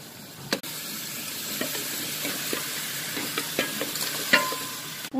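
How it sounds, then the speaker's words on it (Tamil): Onion paste and mutton head bones frying for mutton soup give a steady sizzle, broken by scattered stirring scrapes and clinks and one louder clatter near the end, with no talking. "வெறு வெங்காயம் அரைச்சி வச்சிருக்க, அதை போட்டுக்கலாம். தலைக்கறி எலும்பு போட்டுக்கலாம்."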